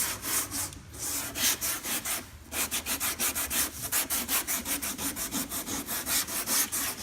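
Rough sanding of a 1976 Corvette's fiberglass body panel before filler, loud rhythmic back-and-forth strokes in a steady fast cadence with a couple of brief pauses, close and alone.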